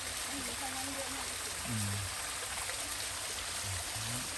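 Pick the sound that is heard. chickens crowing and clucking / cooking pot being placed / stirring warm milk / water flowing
water flowing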